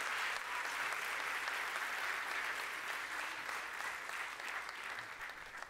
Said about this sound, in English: Please, a big applause to them.